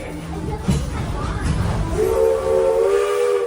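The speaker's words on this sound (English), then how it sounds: "We're going to listen to that one whistle followed by those two magical words of all clear." A steam locomotive on the Walt Disney World Railroad at Magic Kingdom sounds a single loud whistle, a sustained tonal blast near the end, over a background of rumbling train noise.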